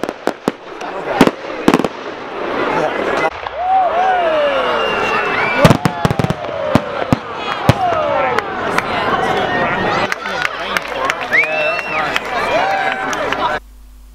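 Fireworks burst at a cricket club party in a park, sharp cracks and booms arriving in irregular volleys with whistling trails, while someone talks close up and people can be heard in the background.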